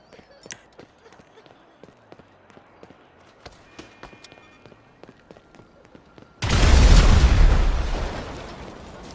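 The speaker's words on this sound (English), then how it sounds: "I proceed to grab a C4, or you can use any exploding weapon, and explode their car or bike" In the GTA 5 video game, C4 blows up a vehicle: scattered light footsteps and taps give way to a sudden loud explosion whose roar swells and then slowly decays.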